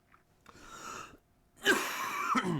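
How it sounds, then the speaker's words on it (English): A person coughs to clear phlegm, a softer harsh cough followed by a louder, raspy, chesty burst of coughing and throat clearing, close to the microphone with brief silence between. "I'm just going to cough during the ad break."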